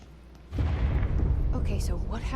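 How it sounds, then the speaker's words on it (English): An explosion in the video game Control erupts with a sudden heavy boom and rumbling burst that sustains loudly, while a voice speaks over the blast. "Explosion."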